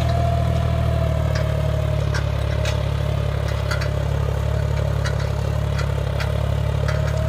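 A John Deere 5050D tractor pulling an 8x8 disc harrow in a low fourth gear gives a steady, loud engine drone with a constant hum and light mechanical clatter. It runs continuously, with no voices.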